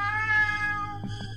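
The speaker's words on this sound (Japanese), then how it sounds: "ポンちゃん、なんて賢い猫なんでしょう" A cat named Pon meows in the video game Ao Oni X, one drawn-out tonal meow followed by a couple of short softer chirps, clear and alone.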